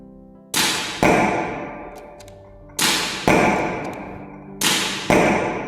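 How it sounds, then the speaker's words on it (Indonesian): An air-pressure gun fires blanks with no ammunition at a school shooting club, giving three pairs of sharp, loud pops, each burst ringing out and fading before the next. "ini namanya blank fire. Kita menembakkan hanya tekanan udara tanpa ada munisi."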